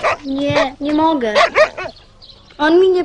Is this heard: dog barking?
yes